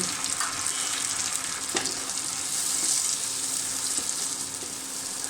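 A mixed spice paste of coriander, turmeric, chili, ginger, garlic, cumin and salt fries in a pan for a small-fish chorchori, a constant loud hiss with a few faint stirring knocks, close and without speech.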